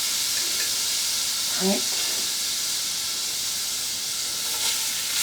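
Garlic frying in sesame oil in an oversized pan with shirataki noodles, a broad steady hiss and sizzle throughout, with a brief spoken remark and faint stirring underneath.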